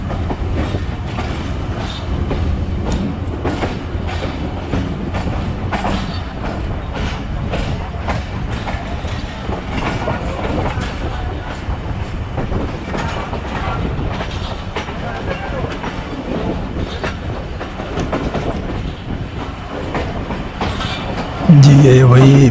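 A passenger train rolls steadily along the rails with continuous rumbling and clickety-clack wheel rhythm, moderately loud throughout, ending in a sudden louder burst near the close.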